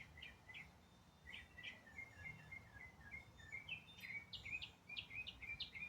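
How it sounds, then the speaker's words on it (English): Small birds sing in the morning: quick series of high chirps and tweets in short bursts, fairly distant and soft over a quiet background. "Hear the small birds singing."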